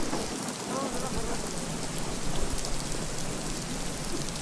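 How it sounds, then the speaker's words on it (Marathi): Heavy, cloudburst-like monsoon rain pours down over the market in Sinnar, Maharashtra, a steady dense hiss of downpour with a low rumble underneath, loud and continuous throughout. "ढगफुटी सदृश पाऊस झाल्यामुळे सिन्नरच्या बाजारपेठेमधील दृश्य"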